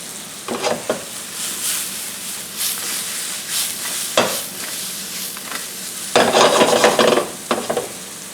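Mushrooms sizzle in a pan on a Weber One Touch kettle grill, with a continuous close frying hiss and sharp scrapes and clinks of a utensil stirring them, louder in brief bursts.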